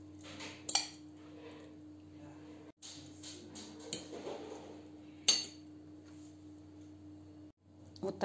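Utensils stir a Korean-style pike-perch salad in a bowl, giving a few sharp clinks and scrapes spaced apart over a low hum, fairly faint.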